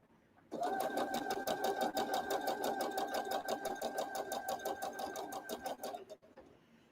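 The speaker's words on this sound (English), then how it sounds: "Now I could be sewing a little bit faster" Sewing machine stitching a quilt top at a quick, even pace, its rapid mechanical ticking close and clear for about five seconds before it slows and stops.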